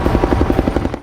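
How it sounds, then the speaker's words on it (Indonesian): Helicopter rotor chopping close by, with loud, rapid, evenly spaced blade pulses over a low engine rumble that stays steady throughout. "Chopper's inbound."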